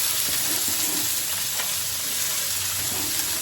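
Potatoes and vegetables fry in oil tempered with cumin, giving a steady, close sizzle with light crackle and an occasional soft scrape throughout.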